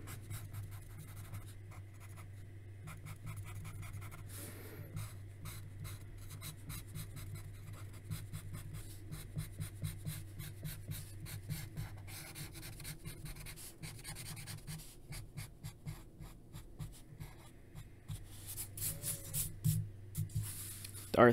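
Pencil drawing and shading of Darth Vader on paper, a close, continuous dry scratching of graphite in quick back-and-forth strokes, rising toward the end, with a low steady hum beneath.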